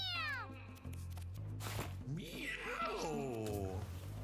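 A person imitates a cat's meow, drawn-out and wavering, voiced several times in quick succession at close range with no other talk.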